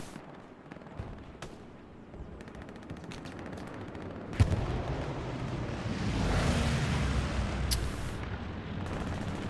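Anti-tank gun fire and other battlefield gunfire in a World War II combat game on Utah Beach, with a sharp loud blast standing out amid steady rumbling shots and explosions.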